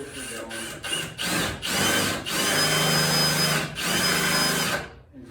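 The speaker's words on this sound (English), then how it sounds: "You take your drill with the filter" A power drill fitted with a filter bores into a table in several whining bursts separated by short pauses, loud and close, with no talk over it.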